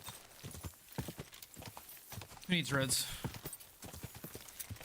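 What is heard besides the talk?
horse hooves while riding, Kingdom Come Deliverance 2 video game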